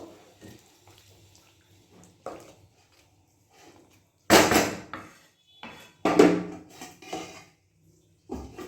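Chicken with fresh coriander leaves being stirred in a pan, giving irregular scraping and clattering of a utensil against metal, with a few louder clanks near the middle and end and quiet gaps between.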